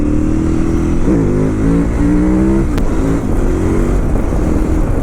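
A KTM 990 Adventure motorcycle engine drones loudly and steadily up close, with a rising rev and gear-change sweep near the start before settling into a continuous road-going hum, no one speaking.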